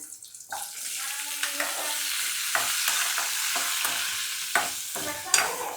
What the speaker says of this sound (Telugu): ఇప్పుడు అల్లం వేస్తున్నానండి.